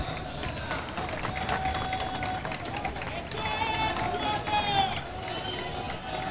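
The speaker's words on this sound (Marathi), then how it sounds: "जोरदार टाळ्या." A large crowd applauds and cheers loudly at a political rally in Kalyan where Raj Thackeray is releasing a work report. Dense, steady clapping and crowd noise continue throughout, with faint tonal sounds mixed in.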